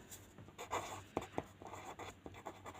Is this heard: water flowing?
no